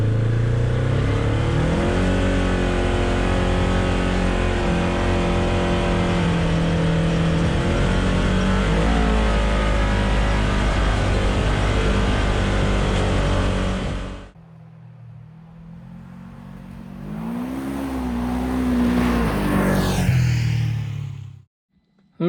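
A 2024+ Polaris RZR XP 1000 fitted with an Aftermarket Assassins dual muffler drives with a loud, steady engine drone for about fourteen seconds, cuts off abruptly, then rises again in a quieter, building rev.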